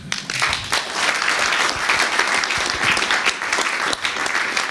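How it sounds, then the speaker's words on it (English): An audience at a panel discussion applauds the panelists with a dense burst of clapping that stays full and even for several seconds. "And I think we should applaud them."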